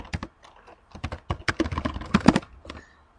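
Typing on a computer keyboard, close and clear: irregular bursts of sharp key clicks with short pauses between, no voices.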